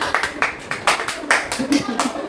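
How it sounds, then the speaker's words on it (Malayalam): Small group of cousins clapping by hand in applause, a run of uneven sharp claps over about two seconds, close by, with a few voices mixed in. "അഗസ്റ്റീനൊക്കെ എല്ലാവരും ഒരു കൈയടി കൊടുക്കൂ"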